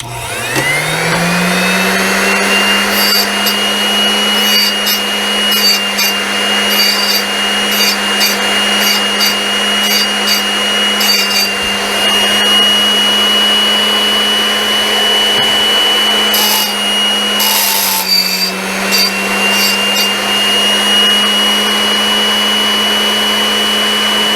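A drill bit sharpening machine runs steadily in a workshop, a loud continuous motor whine that spins up at the start and holds a constant pitch, with a brief dip and recovery near the end and no talk.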